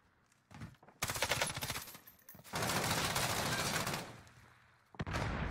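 Bursts of automatic gunfire from a Call of Duty match in a competitive CDL-style game, loud and dense, with several sustained volleys separated by short gaps.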